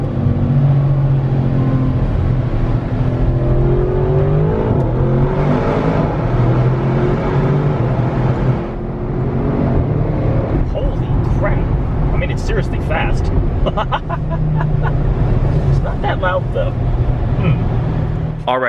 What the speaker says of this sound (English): let's see how the new RS6 sounds.